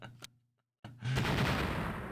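Video game gunfire: a short sharp shot, then near silence, then a loud sustained burst of rapid shots or a blast that rings on to the end.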